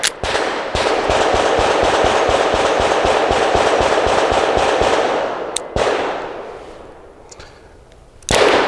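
A Springfield Armory Prodigy pistol firing Hornady Critical Defense Lite 100-grain rounds: a few sharp, loud reports seconds apart, with a rapid rattling texture between them and no talking.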